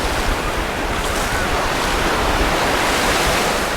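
Steady roar of Mediterranean surf washing onto Alcudia beach in Mallorca, continuous and fairly loud, with some wind noise over it.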